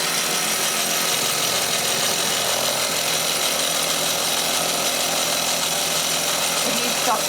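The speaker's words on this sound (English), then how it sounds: "You can see the piston working flat out there." An engine's piston runs flat out with the valve opened by pliers, giving a loud, continuous mechanical chugging and rattling that holds steady throughout, close by.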